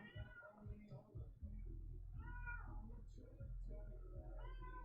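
A cat meows several times in drawn-out, wavering calls close by, while a person talks softly in between and a low hum runs underneath.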